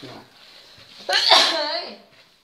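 A person lets out one loud, sharp sneeze lasting about a second, rising abruptly out of quiet kitchen background noise while chicken larb is being prepared.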